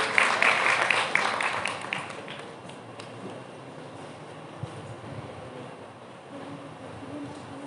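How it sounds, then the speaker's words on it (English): Clapping from the audience at a college English department annual function after a poem recital is introduced: a brisk burst of applause that fades within a few seconds into quiet hall ambience. "Give her a huge round of applause."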